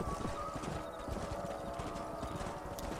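Horses trot in quick, overlapping clip-clop hoofbeats inside the Red Dead Redemption video game, with whinnying mixed into the steady rhythm of a moving herd.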